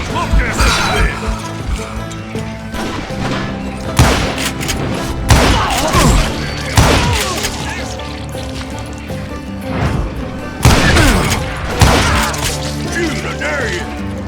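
Repeated bursts of gunfire from hired guns in the western shooter game Call of Juarez Gunslinger, sharp shots clustered in several volleys over a steady loud game soundtrack with clattering effects.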